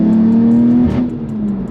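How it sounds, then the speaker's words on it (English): A manual BMW F80 street car accelerates with a loud, steady engine drone, which dips briefly during a gear shift before pulling again, close and without talking. "I haven't driven like a manual F80 street car in a long time."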